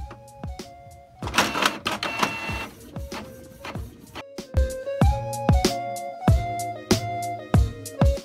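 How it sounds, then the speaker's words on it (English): A printer prints on dotted loose-leaf binder paper, loud and close, with whirring feed, sharp mechanical clicks and rising motor tones repeating in rhythmic bursts as the page advances. "Then just click print and again, wait for it to finish printing."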